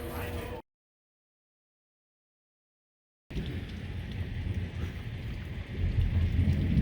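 Steady heavy rain with a deep rumble of thunder building toward the end, after a brief burst of sound and a few seconds of total silence.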